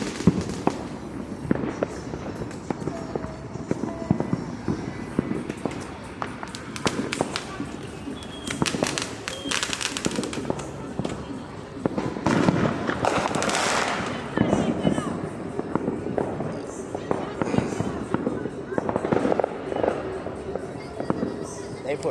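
Fourth of July fireworks in Allentown bursting and crackling continuously at a distance, with firecracker-like pops and louder booms throughout, while people talk loosely nearby.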